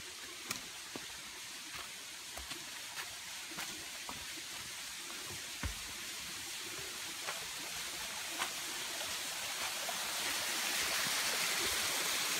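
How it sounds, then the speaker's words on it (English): A small trickling waterfall on a forest trail, a steady faint wash of flowing water with a few brief clicks and knocks over it, continuous and fairly distant. "The smallest waterfall in the world."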